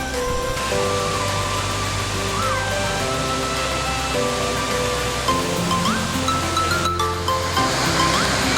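Burney Falls, a spring-fed waterfall, pours in a steady, loud, dense roar of falling water that never lets up, with a few faint tonal sounds drifting in under the rush.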